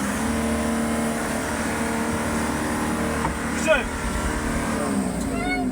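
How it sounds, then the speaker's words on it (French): A pickup truck strains off-road in deep mud, its engine droning and revving continuously with a few higher whines near the end, with people talking over it. "Hors de la chaussée, les véhicules s'embourrent."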